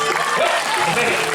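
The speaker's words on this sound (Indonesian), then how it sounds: "Biasa, tepuk tangan." Audience clapping at a Calonarang performance at a Balinese temple, a brief dense burst of applause with voices mixed in.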